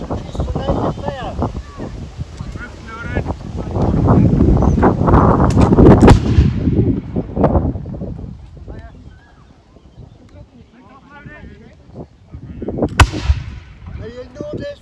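A volley of muskets fires in a historical reenactment at Beamish Museum in County Durham, with loud cracking shots echoing outdoors, wind noise, people talking during the firing, and one more sharp report near the end.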